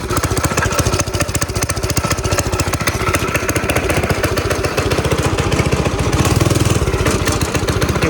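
A repaired go-kart's small gas engine, started with the choke on, runs steadily with a rapid, loud, clattering putter and no pauses.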